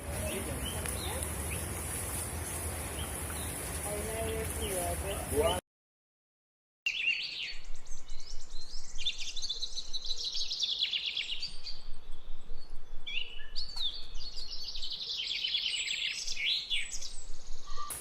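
Wild birds sing in El Cortijo wetland south of Cali, beside the Lili River: varied chirps and whistled calls over soft ambience, then, after a brief gap, a denser run of repeated bright tweets continuing throughout.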